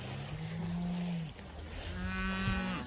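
Cattle being herded along with polywire, two long low moos, one after the other, fairly close, over a constant outdoor background hiss.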